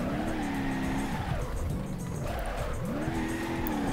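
A car drifting in the BeamNG.Drive driving game, its tires squealing in long wavering wails over a steady engine roar, rising and falling with each slide through the nearly four seconds.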